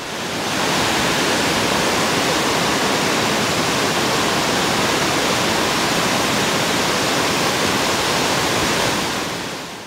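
A waterfall in Mpanga Kipengere roars as a steady, dense rush of broadband water noise, loud and unbroken throughout with no voices.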